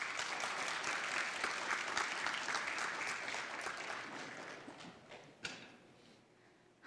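Audience applause at a university entrance ceremony in an auditorium, dense clapping from a large crowd that gradually thins out and fades to a few stray claps near the end.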